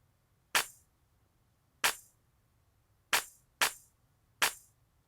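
A clap snare sample in a classic hip hop beat snaps five times, each hit a bright, crisp burst with a short tail. The claps come in a loose backbeat rhythm, close and alone over a faint low rumble.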